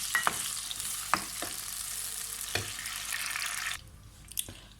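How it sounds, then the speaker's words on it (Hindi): Chopped tomatoes hit hot onions in a pan, then fry with a steady broadband sizzle while a spoon stirs, giving several sharp scraping knocks; close and fairly quiet, with the sizzle thinning near the end. "अभी प्याज गर्म हो गए हैं, इसमें मैं ये टमाटर डाल दूँगी।"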